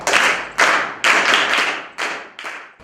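Classroom clapping for students after an answer in an English lesson, a handful of sharp, rhythmic claps from a small group, close and loud, each burst decaying quickly before the next, about six in all.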